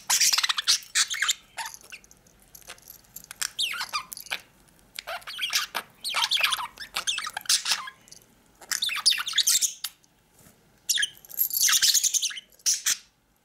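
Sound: pet birds chirping while playing with a toy

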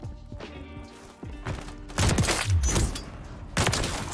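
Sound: sniper rifle gunfire in a video game

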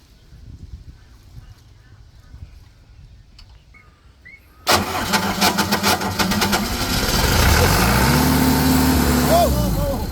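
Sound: motorcycle engine starting

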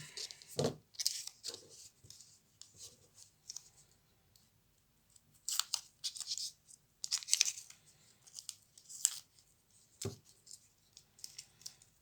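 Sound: masking tape being torn

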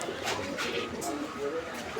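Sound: pigeons cooing and fluttering

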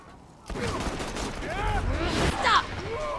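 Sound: gunshots from the video game Borderlands 2

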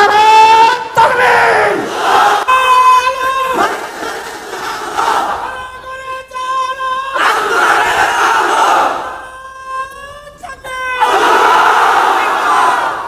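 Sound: crowd chanting Allahu Akbar in response to Nara-e-Takbir

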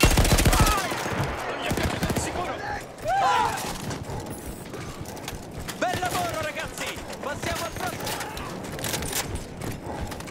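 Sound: gunfire in Battlefield 1 video game

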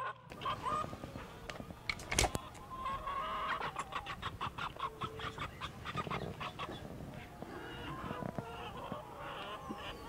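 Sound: rooster clucking

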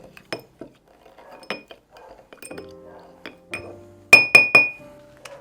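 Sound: muddling lime and cane sugar in a glass for caipirinha

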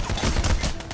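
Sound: gunfire in video game Payday: The Heist

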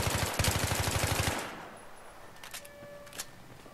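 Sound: M4A1 rifle fire in Battlefield 3 video game

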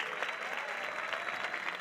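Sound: audience applause

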